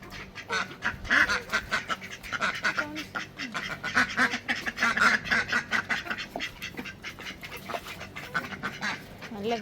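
A flock of farm ducks quacking continuously and loudly, many overlapping calls in a busy, close chorus, in the UAE.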